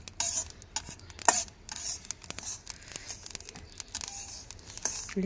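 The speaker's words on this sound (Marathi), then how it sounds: "चांगले भाजतात तीळ आणि खसखस." Sesame and poppy seeds dry-roasting in a pan, a steady rustling, scraping stir with crackly bright hiss and occasional sharper knocks of the utensil, close and continuous with no speech.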